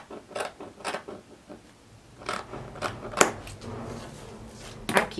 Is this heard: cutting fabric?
yes